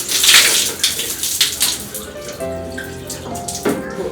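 Water pours and splashes in uneven gushes, close and fairly loud, with a brief tonal clatter near the end.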